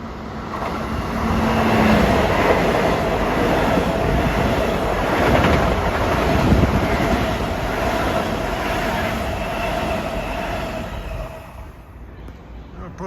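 An LIRR commuter train rumbles past Forest Hills station, a loud, steady roar of wheels and cars lasting several seconds before easing off slightly near the end.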